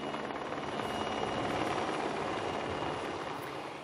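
Rescue helicopter flying near Tenerife Norte airport in the Canary Islands, its rotor wash a steady, loud broadband thrum that holds unbroken with no voices.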